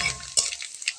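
Dried chillies and panch phoron hit hot mustard oil with a brief, crackling sizzle and some stirring scrapes, fading into a few scattered pops.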